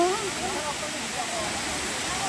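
Kabigan Falls waterfall in Pagudpud, Ilocos Norte, roaring as a loud, steady broadband rush of falling water, close by and continuous, with people's voices faintly mixed in.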